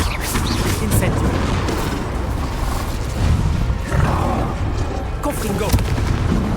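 An Incendio fire spell cast in Hogwarts Legacy, a dense rushing burst with crackling, booming game noise that lasts several seconds and swells midway.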